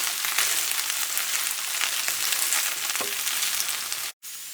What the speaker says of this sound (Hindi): भिंडी तोरी को हमने थोड़ा सा फ्राई कर लिया है।